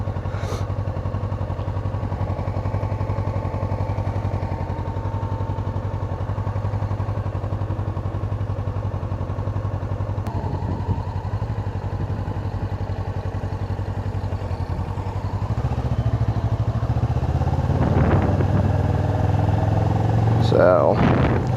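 Motorcycle engine running steadily while the bike is ridden on a hot day, a continuous low drone throughout with rising revs and some clatter near the end, and a voice speaking over it.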